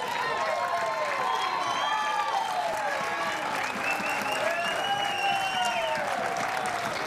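At a mixed beach volleyball gold medal match at the Baird Open, a crowd claps and cheers continuously, a broad wash of applause with rising shouts and whoops, while voices talk over it.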